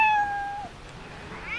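A cat in a video game gives a clear meow that falls away, then a second rising meow after a pause, close and prominent with no talking.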